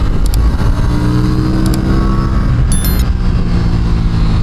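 Loud, steady engine drone from an Aprilia RS457 motorcycle riding along a road, held at constant strength with a brief shift into third gear, without any speech.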